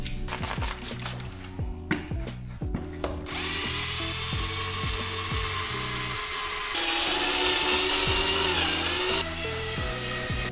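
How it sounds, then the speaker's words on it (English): An IKEA power drill sanding car headlights with 1500 grit sandpaper gives a loud, steady whirring grind that runs continuously and grows harsher partway through, after some brief handling noises at the start, with no talking. "now we have sanded 800 grit, and now we are moving on to 1500"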